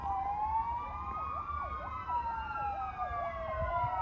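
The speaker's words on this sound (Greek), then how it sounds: "Παντού σιρήνες, το νοσοκομείο έχει εκενωθεί και όλοι φεύγουνε" Wailing emergency vehicle sirens sweep up and down continuously amid a wildfire near a hospital evacuation in Alexandroupoli, loud and steady over a low rumble of traffic, with no talk.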